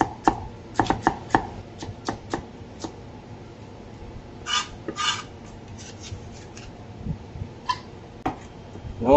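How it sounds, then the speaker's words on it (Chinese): Knife slicing an onion into strips on a cutting board: close, crisp chops in quick irregular bursts with short pauses between them, and no talking. "然后这个洋葱啊切成丝"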